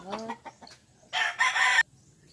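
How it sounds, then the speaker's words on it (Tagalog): A chicken gives a few short clucks, then a louder drawn-out crowing squawk nearby, all fairly close. "tapos ito yung mga manok"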